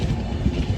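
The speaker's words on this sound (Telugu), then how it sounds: "దిగేసి నడుచుకుంటూ వెళ్ళిపోతుంటే ఇప్పుడు ట్రైన్ స్టార్ట్ అయ్యింది" A train pulls away from a platform at Guntakal railway station in the early morning, a steady low rumble of wheels and carriages close by, with no one talking.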